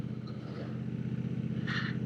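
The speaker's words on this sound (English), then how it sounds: "Exhaust is fairly quiet," A 2026 Triumph Bonneville Bobber motorcycle with a Euro 5 plus exhaust, a steady low engine drone while riding at modest speed, fairly quiet and continuous, with light wind noise.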